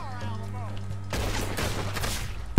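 Gunfire in Red Dead Redemption, a sudden loud burst of rapid shots and echoing bangs after a stretch of quieter game sound with someone talking at the start.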